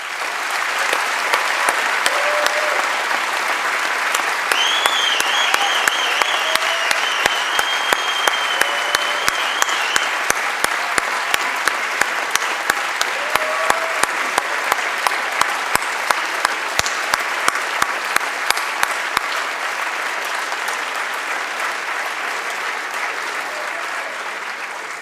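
A hall full of people at an MBA and EMBA graduation ceremony gives warm, sustained applause for the staff, steady and loud, briefly turning into rhythmic clapping with a few whistles before it fades.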